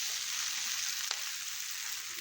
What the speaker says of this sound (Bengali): মশলাটা দিয়ে ভালো করে উল্টে পাল্টে নাড়াচাড়া করে কাঁঠাল আর মটরটা ভাজা ভাজা করে নেব